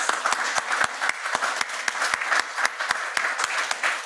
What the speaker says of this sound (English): A round of applause for everybody who's participated,